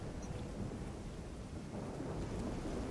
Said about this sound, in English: the sound of the rain is actually making me cold